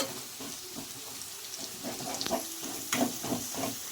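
Curry base for Andhra-style stuffed brinjal fries in a pan with a soft, close sizzle, broken by a few clinks and scrapes of stirring and no talking.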